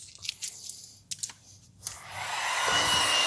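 A few crinkly vinyl handling taps give way to a heat gun switching on, its steady blowing roar building and holding as it warms vinyl wrap on a Tesla hood.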